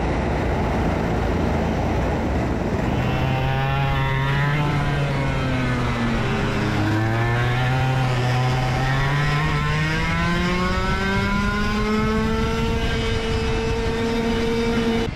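A KA100 racing kart runs on a track, its engine droning loudly and continuously, with pitch dipping and then climbing as it slows into a corner and accelerates away, close up and with no talk.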